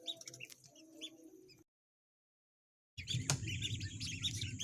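Ducklings chirp faintly as duck eggs hatch at night, high peeping calls with a brief silent gap midway, then resuming over low background noise.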